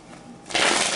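Tarot cards being shuffled for a reading, a soft papery riffle that starts quietly and swells into a dense, louder burst of card flutter over the second half, with no talk.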